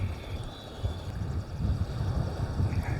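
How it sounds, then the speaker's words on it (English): Strong wind buffets the microphone out on Southampton Water while sea fishing for bass from a boat, a low gusty rumble with faint water wash and a couple of thin whistling tones, with no one speaking. "It's really quite windy."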